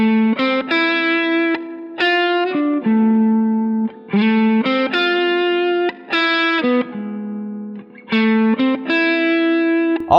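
Electric guitar playing a triad-based solo over changing chords, bright sustained notes with effects and distortion, loud and continuous with brief gaps between phrases.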